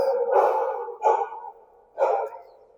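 A dog barks three times in short bursts, spaced about a second apart, fairly close and clear with quiet gaps between.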